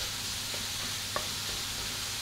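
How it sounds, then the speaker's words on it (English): Ground meat browning in a skillet for chili pie gives a steady, close sizzle and hiss, with a faint stir or scrape near the middle. "is going to brown this meat for about 5 to 7 minutes"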